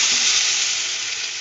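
Vegetables for a mixed vegetable soup frying in a pan, giving a steady, close, bright sizzle that continues without a break, with no voices.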